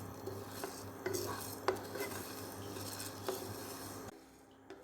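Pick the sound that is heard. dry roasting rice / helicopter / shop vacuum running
dry roasting rice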